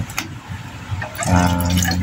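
Water being poured into a mixture for making ube ice candy, a short close trickle that swells after some brief handling noises.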